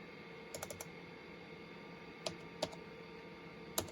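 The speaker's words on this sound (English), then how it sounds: "We may have a partially malfunctioning keyboard." Keys clicking on the keyboard of a Compaq LTE Elite 4/50E laptop with a partially malfunctioning keyboard: a quick burst of four presses, then three isolated sharp taps spaced apart, close and clear over a quiet hum.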